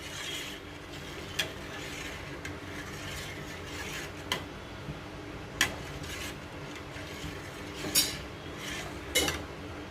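Milk with almonds is stirred in a pan, giving a soft continuous rubbing hiss with a few sharp metallic clinks of spoon against the pan spaced through the clip; no speech.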